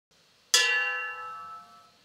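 A single strike on a kitchen pot rings out close and clear, a bright metallic tone that decays slowly over about a second and a half, with nothing else around it.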